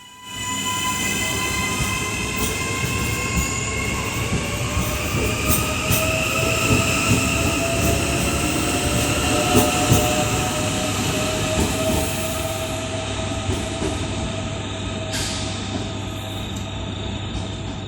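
An early-morning Auckland passenger train rumbles past steadily at close range, with a high metallic squeal from the wheels running through the whole passage.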